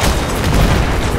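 A loud, sustained explosive boom from an anti-tank mine going off in the video game Battlefield 3, a dense broadband roar with heavy low-end rumble filling the whole moment, no talking over it.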